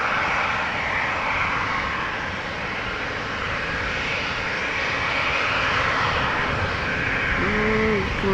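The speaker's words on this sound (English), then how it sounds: "Taxiing to runway 24 for departure" An airliner taxis toward runway 24 at Amsterdam Schiphol Airport, its engines giving a steady, loud broadband roar that holds evenly throughout, with a faint tonal whine near the end.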